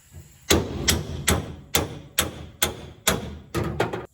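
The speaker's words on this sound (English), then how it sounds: "I use a couple chisels at the same time that kind of prise it apart as I'm working" Metal chisels are hammered into an old trunk floor pan on a 1967 Cadillac, giving about nine sharp, ringing blows in a fairly steady rhythm, close and loud.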